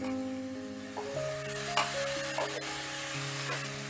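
Grated potato stir-fried with cabbage and spices in a pan: a continuous soft sizzle with occasional scraping strokes, heard close over a sustained tonal background hum, without speech.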